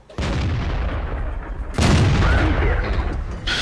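Two heavy booming tank cannon blasts in World of Tanks, each followed by a rumbling roar, with a brief quieter gap between them.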